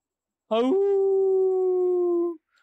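A single drawn-out recorded dog howl, played back as a sound effect, rises sharply then holds one steady wavering tone for about two seconds before cutting off, loud and alone with no talk over it.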